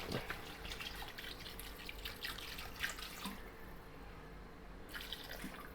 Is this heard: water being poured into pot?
yes